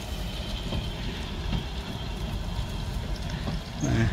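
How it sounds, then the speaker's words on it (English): An electric railway train in Brighton rumbles steadily past at close range, a broadband roar with low-frequency weight that swells slightly louder near the end. "there's your electric railway"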